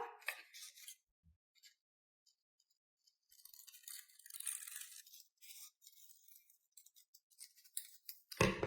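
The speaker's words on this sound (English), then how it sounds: "then we can go ahead and cut that out" Scissors snip through paper while a bookmark is cut out, with a few sparse clicks early on and then a busier run of close, crisp cutting sounds, with no talk.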